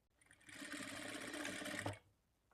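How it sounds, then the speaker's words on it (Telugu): Sewing machine stitching a blouse straight along a marked line, a steady continuous whirring run lasting under two seconds that stops abruptly, close and fairly loud with no voices. "డైరెక్ట్‌గా ఈ మార్కింగ్ మీదనే స్టిచ్ చేసుకుంటే సరిపోతుంది."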